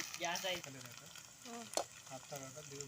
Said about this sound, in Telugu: ఇప్పుడైతే అల్లం పేస్ట్ వేస్తున్నాం